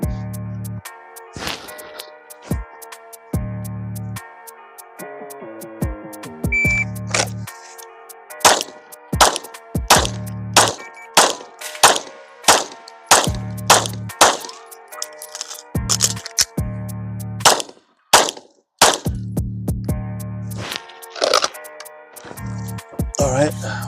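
A Glock 17 pistol fires repeated shots at steel targets during a standards drill, loud sharp cracks in uneven strings with pauses between them, while someone talks between the shots.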